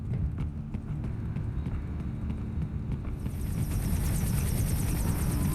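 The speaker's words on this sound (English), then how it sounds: "I smell a chopper." A chopper in the PC game Metal Gear Rising: Revengeance thumps in a fast, steady rhythm over a dense rumble, joined partway through by a bright, whining roar that grows louder.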